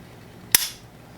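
A single sharp click is heard as the trigger of a Kimber EVO SP (CDP) pistol breaks after take-up, short and close against a quiet background.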